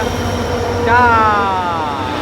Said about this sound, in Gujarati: તો ફાઇનલી હવે આપણી ટ્રેન આવી ગઈ છે ને ભાઈ, જો તમે જોઈ શકો છો આવી ગઈ છે ટ્રેન